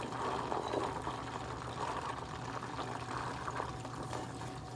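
Homemade ghee bubbles in a pot as it cooks, a continuous close crackle and fizz of popping bubbles at moderate volume.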